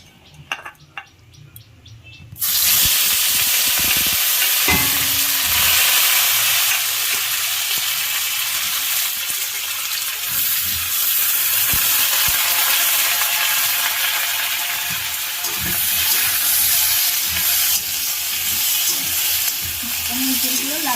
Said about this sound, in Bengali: এই তেলে ভাপানো ইঁচড় আছে, এই ইঁচড়গুলো একটু ভেজে নেব